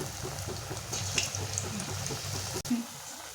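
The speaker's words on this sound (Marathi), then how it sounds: "तेल छान गरम झाले आहे, भजी पटकन फुगून वर येत आहे" Ridge gourd fritters fry in hot oil, giving a steady bubbling sizzle that runs through the whole stretch with small crackles, moderately close, with no talk over it.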